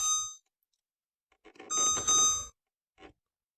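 A kitchen stove's electronic timer gives short beeps and chimes while being set for one hour, a brief tone at the start, a denser cluster of beeps in the middle and a single short beep at the end, close and clear.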